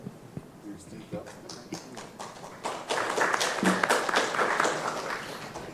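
An audience at a seminar on e-democracy at the São Paulo state assembly (ALESP) claps for a speaker, scattered hand claps building into steadier applause, with talking over it.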